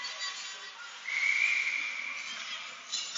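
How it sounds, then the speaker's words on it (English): A referee's whistle blows once, a single sustained shrill tone stopping play during a 15U youth ice hockey game, standing out clearly over steady rink noise. "they whistle stop and play with 5:23 left"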